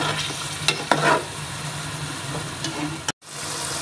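Mutton frying with ground tomatoes for aloo gosht makes a continuous dense sizzle close by, a couple of stirring scrapes near the start, then a sudden brief cutout before the hiss resumes.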